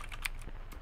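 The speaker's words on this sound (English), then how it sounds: "Oops, I'm typing that wrong." A few quick keystrokes on a computer keyboard, soft and close, in a brief burst of clicks with no talking.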